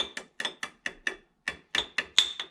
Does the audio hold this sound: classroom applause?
no